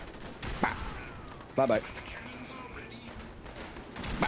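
A gunfire volley in the Fallout 4 video game, a few sharp blasts spaced over a few seconds under a player's talk and a low game background.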